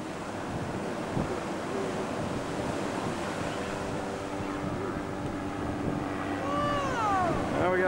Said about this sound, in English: Here comes the big waves.